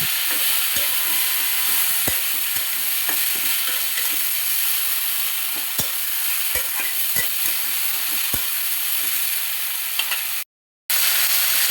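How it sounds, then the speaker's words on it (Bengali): Fish heads frying in oil for a Bengali eggplant dish (begun ghata), stirred in a pan. A loud, steady sizzle runs throughout, broken by sharp, regular spatula clacks against the pan, with a brief drop to silence near the end. No talking. "ভালো করে নেড়ে দিয়ে দিব।"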